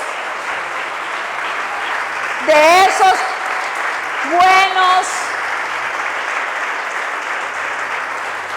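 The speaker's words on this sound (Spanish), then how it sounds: "¿Le puede dar un aplauso al Señor" A church congregation claps steadily through the whole stretch during a worship service, with a voice briefly rising over the applause twice near the middle.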